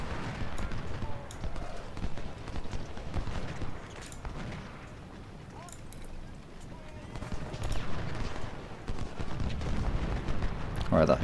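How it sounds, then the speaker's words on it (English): Artillery shell fire on a Civil War battlefield at Gaines' Mill in Ultimate General Civil War: a dense, continuous rumble of distant booms and scattered bursts, steady and moderately loud throughout. "that's shell fire"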